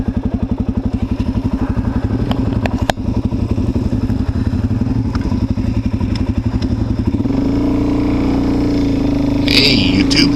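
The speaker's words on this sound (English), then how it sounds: "But as you can hear, it's slipping quite a bit here, and it's going to burn up" Motorcycle with a slipping Rekluse automatic clutch, engine revving loudly and steadily in a pulsing drone with clattering thumps, a voice speaking briefly near the end.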